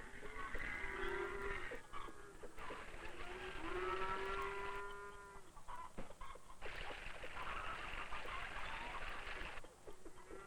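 A herd of black-and-white Holstein Friesian dairy cows on a Dutch farm low and moo repeatedly in long drawn-out calls that overlap one another, with clucking fowl audible in the background.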